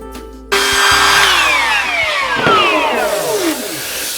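A router cutting a 1/8 inch round-over on a maple wood edge starts with a sharp motor whine and spins up loud and close, its high whirring pitch falling and sweeping as the bit bites into the wood.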